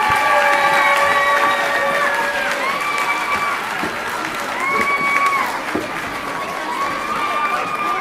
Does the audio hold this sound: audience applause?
yes